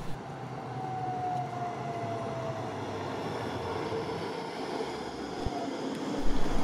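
A Halberstadt tram rolls along its rails through town, a steady low rumble with a faint squealing tone, moderately distant and continuous with no voices.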